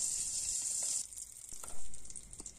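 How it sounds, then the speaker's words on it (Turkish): Flour toasts in melted butter in a pan for béchamel sauce, giving a steady close sizzle with a few stirring scrapes and soft clicks. "Yağımızın içerisine 2 yemek kaşığı un ekleyip 1-2 dakika kavuruyoruz"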